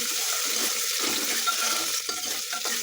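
Green peas being stirred and mixed into a sizzling pan while cooking tomato bath, a steady close frying hiss with soft scraping and stirring movements throughout, no talking.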